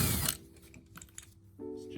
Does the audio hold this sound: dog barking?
no